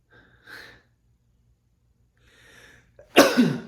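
A few faint breaths, then a single sharp, loud sneeze bursts out near the end, close by, with no talking.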